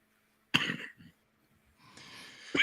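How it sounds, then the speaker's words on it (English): A man coughs during a live magazine-launch stream: a sharp cough burst, a short pause, then breathy sounds leading into another cough at the end, fairly close. "I was coughing."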